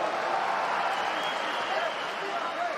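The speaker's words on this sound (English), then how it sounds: "Nice reaction from the crowd there." A UFC arena crowd roars in a steady, broad wash of cheering and noise under a commentator's voice.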